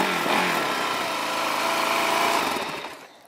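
A Suzuki DRZ 400 SM motorcycle engine runs steadily with a continuous buzzing drone, fairly loud and close, then fades near the end as it is shut off.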